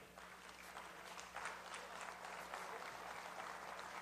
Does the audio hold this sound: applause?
yes